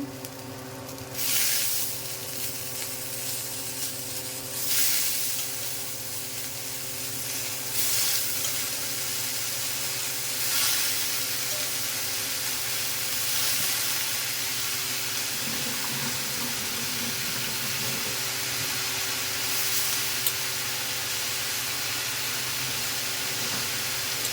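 Mushrooms frying in a pan for a mushroom fry, a steady, fairly loud sizzle that runs without a break, with a few brighter hissing bursts and some stirring, and no voices.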